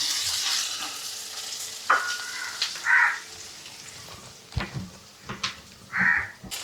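Dried red chillies and garlic fry in a pan of hot oil for a chilli chammanthi, a soft sizzle broken by a few spatula scrapes and clatters and brief bursts of crackling.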